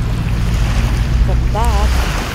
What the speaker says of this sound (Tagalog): So, eto yung dagat.